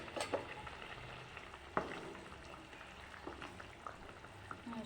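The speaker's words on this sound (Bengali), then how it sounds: "এবার ভাজা মাছটা দিয়ে দিচ্ছি" Fried fish pieces go into a pot of simmering Bengali fish curry with new potatoes, making a soft, distant bubbling and sizzling broken by a few light clinks of a utensil on the pot.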